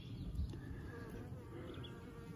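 Honey bees buzz around an open hive during an inspection, a faint, continuous insect drone with soft handling noises and a little background rustle.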